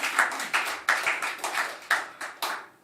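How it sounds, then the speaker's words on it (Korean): Congregation in a Korean church communion service clapping in unison, about eight sharp rhythmic claps in a steady beat, close and clear with no talking. "여러분들도 그렇게 느끼셨으면 하나님께 박수"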